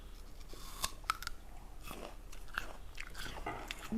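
Someone bites into a crunchy Envy apple and chews it, a sharp crisp crack followed by a few more crunchy bites and steady wet chewing, all close and quiet with no talking.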